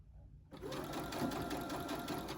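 A regular home sewing machine stitches ribbing onto a t-shirt neckline, starting abruptly after a brief quiet moment and then running as a steady, close whirring hum.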